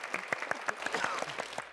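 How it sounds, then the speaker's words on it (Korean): Scattered applause from a church congregation in Ansan: a dozen or so separate, crisp claps in an uneven rhythm, fairly close and moderately loud, with no other sound. "박수 부탁드립니다."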